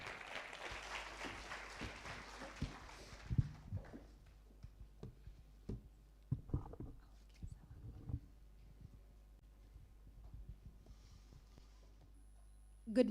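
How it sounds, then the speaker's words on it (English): Audience applause welcoming a speaker on stage at a mental wellness conference, a sparse, fairly quiet smattering of claps that thins into scattered isolated claps and room noise. "Please a round of applause for her."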